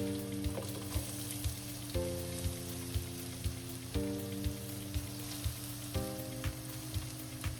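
Onion and green chili frying in peanut oil, a steady close crackling sizzle that holds even throughout, with a faint regular ticking and a low hum underneath, and no voices.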